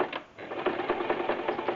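A domestic sewing machine runs a short back stitch at the end of a seam on a girl's dress, a close rapid mechanical whirr of needle strokes, preceded by a brief click and pause.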